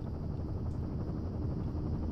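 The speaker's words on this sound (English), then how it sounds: "There's the helicopter." A helicopter arrives in the video game Firewatch, its steady rotor drone and engine rumble filling the scene continuously and fairly loudly with no talk over it.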